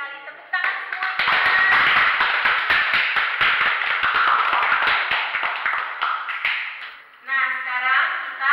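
A group claps together for several seconds during a nursing group activity therapy role play on hallucinations, a dense burst of handclaps with speaking voices just before and after.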